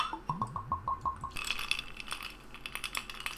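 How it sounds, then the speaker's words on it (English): Ice cubes clink and rattle against a glass tumbler in a quick series of bright chinks, close and fairly quiet, followed by softer clatter and handling noise. "a glass and nothing but ice"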